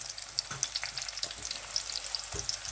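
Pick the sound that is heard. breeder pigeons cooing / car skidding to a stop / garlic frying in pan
garlic frying in pan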